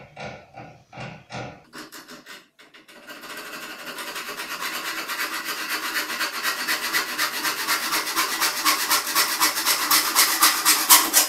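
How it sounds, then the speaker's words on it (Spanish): Hand saw for non-ferrous metals cutting aluminium, starting with a few slow separate strokes, then settling into steady rapid back-and-forth rasping that grows gradually louder, close up and alone. "sierra para materiales no ferrosos, como es el caso del aluminio"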